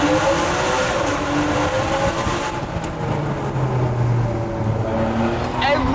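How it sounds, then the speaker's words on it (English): A Ferrari engine revs hard inside a mountain road tunnel, giving a loud, close, sustained roar whose pitch rises and falls with echoing reverberation. "Every time you hit a tunnel in a Ferrari, you should wind the windows down and give it some stick."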